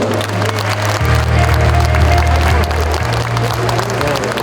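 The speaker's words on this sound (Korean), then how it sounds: "박수 한번 부탁드립니다" Audience applause at a youth startup festival in Seoul: a steady wash of clapping from a crowd over a low sustained tonal hum, lasting the whole stretch without a break.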